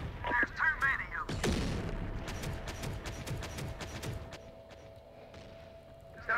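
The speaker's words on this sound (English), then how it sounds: "Enemy fire!" Enemy gunfire in Terminator Dark Fate Defiance, with a quick run of sharp, distinct shots that fades into a low hum, and voices talking briefly at the start.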